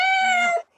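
A house cat gives a single clear, drawn-out meow, close and loud, fading quickly at the end.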